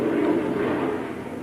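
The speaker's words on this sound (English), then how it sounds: "So if you hear that jet in the background, this is a military town." A broad distant jet roar fills the background, steady and rumbling, slowly fading slightly over its short span.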